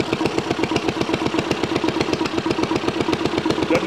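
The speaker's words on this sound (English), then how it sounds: "Throttle governor engine." A Collis 5 HP throttle-governed engine with a single rocker arm and a leaking flywheel-radiator seal runs steadily nearby, giving an even, rapid mechanical chuffing and clatter with no voices.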